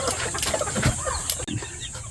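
Gamefowl breeder roosters cluck in short, close bursts that repeat irregularly with brief gaps, with no talking over them.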